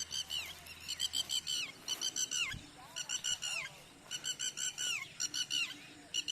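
A red-wattled lapwing (titehri) gives repeated bursts of sharp, shrill piping calls in rapid clustered series, loud and close, with short pauses between bouts.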